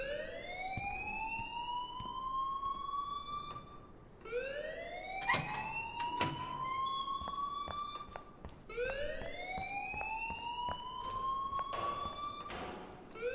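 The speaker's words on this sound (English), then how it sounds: "please turn off that alarm since that's your job." A school alarm in Life is Strange wails in repeated rising sweeps, three long loud cycles with brief sharp clicks between them, sounding alone without voices.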